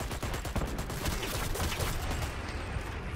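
Dense, continuous gunfire from the online shooter game Dirty Bomb, with rapid overlapping shots and bursts filling the whole stretch, loud and close throughout.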